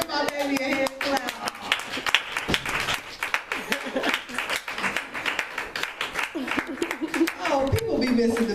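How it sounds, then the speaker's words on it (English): Congregation clapping at a Youth Sunday church service, sustained and fairly loud, blended with music and voices talking over it throughout. "Y'all give my baby a hand clap."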